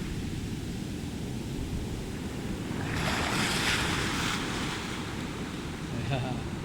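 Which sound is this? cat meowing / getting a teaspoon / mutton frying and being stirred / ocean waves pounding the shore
ocean waves pounding the shore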